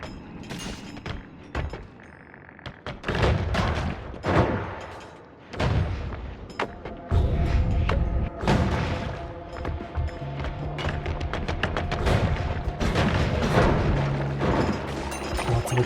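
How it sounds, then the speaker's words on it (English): Explosions in the video game Noita, a rapid, loud run of booming blasts and crackling bursts that keeps going with little pause, dense and close, with no talk over it. "Explosions."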